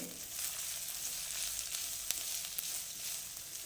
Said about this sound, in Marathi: कांदा व्यवस्थित परतून घेऊ